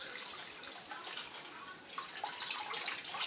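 Cooking water drains from rice through a sifter in a continuous splashing, hissing trickle that runs steadily throughout, close and fairly soft, with no voices.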